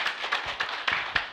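An audience at a Buddhist lecture claps in a short, loose patter of hand claps, fairly close and sparse, with no talk over it.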